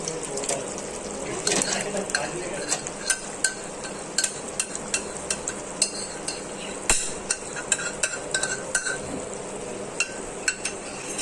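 Spoon scraping and stirring in a kadai as a portion of yogurt is mixed into masala for fish curry, a steady run of close clinks and scrapes over a low sizzle with no talking.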